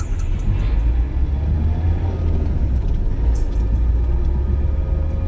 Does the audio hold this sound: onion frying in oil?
no